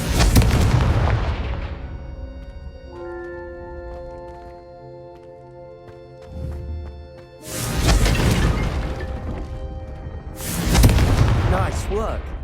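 Fiery Confringo spell blasts strike candelabras in Hogwarts Legacy, landing as loud booming bursts with long crackling tails, two big impacts standing out near the end amid tonal game music and a low rumbling ambience.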